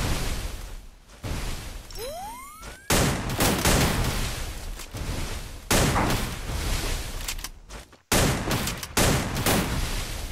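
Gunfire in a Free Fire-style one-on-one shooting video game: loud, repeated bursts and volleys of shots, with a brief rising whistle early on and short gaps between the bursts.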